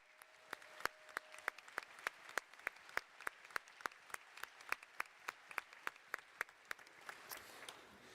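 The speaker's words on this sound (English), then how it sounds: "Let's give you guys a round of applause." At the DEF CON 32 closing ceremony, a few people clap in scattered, sharp individual claps at a quick uneven pace, faint and sparse rather than a full crowd ovation.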